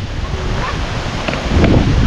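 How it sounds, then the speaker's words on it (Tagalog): Strong gusty wind buffeting the microphone outdoors at a family birthday gathering, a loud continuous roar with surging gusts. "ay lakas ng hangin oh."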